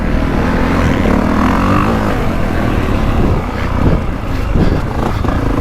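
A 2025 Honda CRF450R motocross bike ridden on a dirt track gives a loud, continuous engine drone that rises and falls with the throttle. It stays steady and close throughout with no talk.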